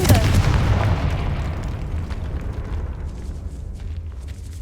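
A Confringo spell explodes inside a decaying catacomb in a Hogwarts video game, a loud booming blast that rolls off into a long, fading low rumble, with a soft voice faintly present beneath it.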